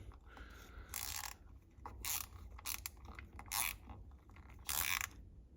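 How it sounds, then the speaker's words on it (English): A 5.11 Tactical TKO ratchet fitted with a T20 Torx bit drives a 1¼-inch construction screw, giving several bursts of close, crisp ratcheting clicks separated by short pauses. "this comes with that T20 Torx, and I'm going to use some 1¼ inch construction screws here, that should work pretty well in that"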